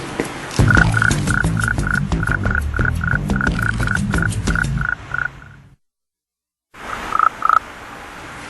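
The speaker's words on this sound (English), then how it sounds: "It's a Polynesian toad. Male." A male Polynesian toad croaks in a steady run of about fifteen evenly spaced, fairly loud calls. A pause of near silence follows, then two or three more croaks.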